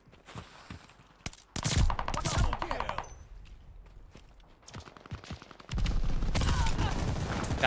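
Call of Duty Vanguard gunfire arrives in short bursts of rapid shots, loud and close, separated by quieter stretches, with a sustained burst near the end.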